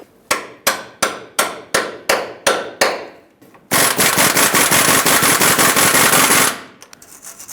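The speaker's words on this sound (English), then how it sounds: "it looks like the socket needs to be hammered on because of the rust" A socket is hammered onto a rusted 21mm sway bar link mounting nut on a 2011-2018 Ram 2500: eight sharp, evenly spaced metallic strikes ring close and loud, then a sustained harsh rattling burst follows.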